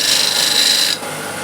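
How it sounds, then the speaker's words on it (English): A spindle gouge shear-scrapes a wooden disc flower vase spinning on a lathe, giving a close, steady raspy scrape for about a second before it lifts off, leaving a softer hum. "A little shear scraping with the spindle gouge, just to refine it a little bit."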